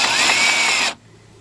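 A cordless drill fitted with a 1/4-inch drive socket extension loosens a bolt on a 2010 BMW 528i, one loud close whirring burst lasting under a second and then cutting off.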